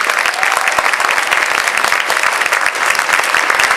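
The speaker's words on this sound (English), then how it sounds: "We give our judges a big round of applause." Loud, dense clapping from a county fair crowd applauding the judges of a queen talent and evening gown competition, sustained and even without a break.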